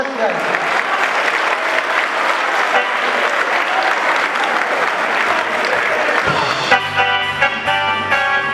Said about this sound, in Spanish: con un fuerte aplauso vamos a recibir a nuestro catering